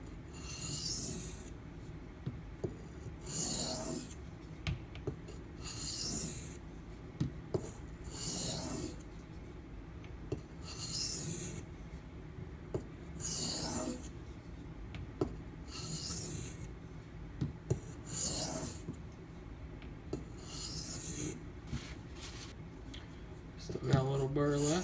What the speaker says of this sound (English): I'm going to do a few back and forth strokes just to break it off